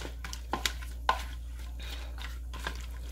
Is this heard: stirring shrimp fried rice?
yes